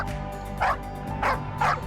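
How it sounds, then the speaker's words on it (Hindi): Three short, sharp dog barks spaced about half a second apart, fairly close, over a steady low background hum. "वो सफेद कुतिया फिर से भौंकने लगती है।"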